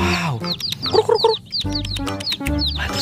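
Rainbow-colored chickens cluck and squawk repeatedly at close range, loud overlapping calls with a busy rhythm.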